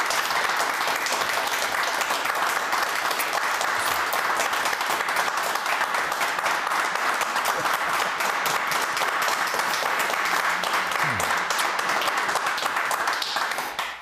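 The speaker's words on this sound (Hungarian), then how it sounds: "Még egy 20 percet tapsoltok" Loud studio audience applause on a Hungarian television talk show, a dense, steady wash of clapping that holds for about fourteen seconds before dropping off at the very end.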